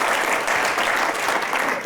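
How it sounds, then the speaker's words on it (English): Sustained audience applause at a symposium on autonomous vehicles and the city, a dense even wash of many hands clapping throughout, fairly loud and steady. "Please give him a round of applause."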